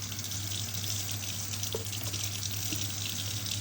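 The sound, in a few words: hands being wet under running tap water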